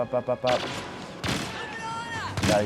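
Blaster and gunfire bursts from the Star Wars Battlefront video game, several loud rapid volleys with a thud, mixed with in-game noise and people talking.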